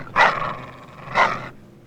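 A dog gives two sharp barks about a second apart, fairly close and with a slight growly edge, and no voices.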